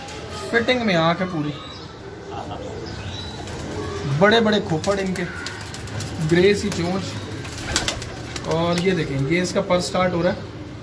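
Pigeons coo in repeated warbling bursts close by, with someone talking over them and occasional wing flutters.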